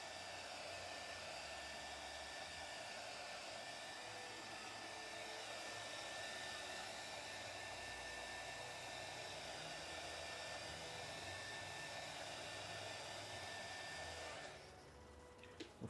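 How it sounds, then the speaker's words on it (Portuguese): A hair dryer runs as a steady, close, loud whoosh during a Christmas nut-holder craft session, holding constant before cutting off near the end. "Se você puder não usar o secador, até melhor, né?"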